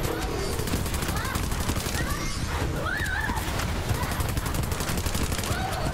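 Dense, continuous gunfire fills a hectic Borderlands 3 firefight, loud rapid bursts layered with other game noise and strange whinnying cries, with no pause throughout.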